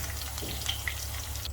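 Okra (bhindi) fries in hot oil on a low gas flame, giving a soft, continuous sizzle with faint stirring clicks as the pieces are lifted out.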